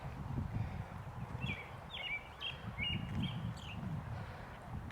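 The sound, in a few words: birds chirping in a front yard garden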